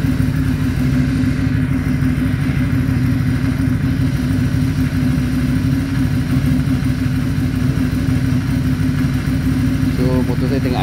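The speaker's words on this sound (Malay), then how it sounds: "So motor saya tengah idling" An Aprilia Shiver 750 motorcycle idles steadily up close after two days of rest, with its ECU connected to a tuning cable; the even, continuous engine note holds throughout with a faint clatter.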